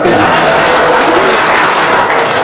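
An audience breaks into loud, dense applause, a close wash of many hands clapping continuously.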